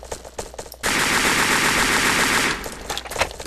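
A loud, near burst of sustained rapid automatic gunfire in the blocky shooter Ace of Spades lasts under two seconds, preceded and followed by quieter scattered clicks and shuffling.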